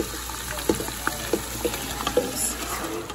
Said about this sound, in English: We are going to add ground beef.